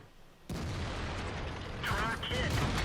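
Tank cannon fire in World of Tanks, an IS-2 battle on the Siegfried Line map: a loud, sudden blast with a rumbling, mechanical tail, while a voice talks briefly over it.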